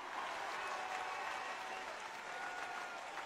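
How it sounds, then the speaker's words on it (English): A large church congregation at a deliverance service in London claps continuously, a dense, even wash of applause with no clear individual beats. "Clap your hands to the Holy Spirit."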